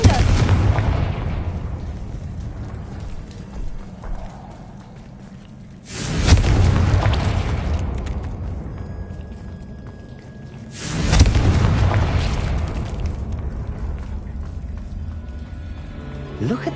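Confringo spell blasts in the video game Hogwarts Legacy: three loud booming explosions spaced several seconds apart, each with a sharp onset and long rumbling decay, close and full, with no talk over them.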